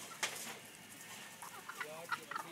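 Faint, scattered clucks and short squawks from chickens rise over a quiet outdoor background.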